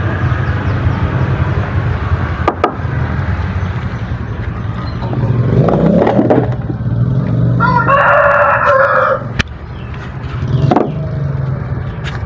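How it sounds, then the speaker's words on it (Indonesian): Chickens cluck and a rooster crows amid steady background noise and occasional sharp knocks, fairly close and continuous. "Maaf ya ini terganggu soalnya banyak ayam ya."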